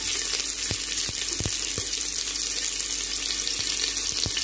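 Cinnamon stick and cloves fry in hot oil for a chicken gravy: a constant hissing sizzle with a few sharp spoon taps and clinks against the pan, close and alone without speech.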